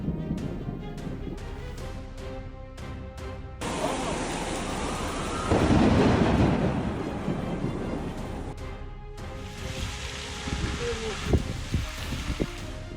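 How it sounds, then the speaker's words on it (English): Thunderstorm over New Jersey, heavy rain hissing steadily while a deep thunder rumble swells in the middle, with wind under it. "storm clouds unleashed a dazzling display of lightning"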